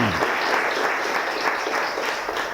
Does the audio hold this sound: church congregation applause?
yes